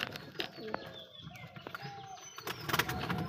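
A pair of Madras pigeons, skittish from not being handled for a while, gives soft, low coos alongside short bird chirps and light handling noises, close and fairly quiet.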